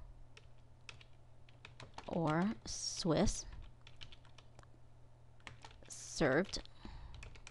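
Rapid clicks of a computer keyboard as menu items are typed, close and fairly soft, running steadily while a person speaks over them.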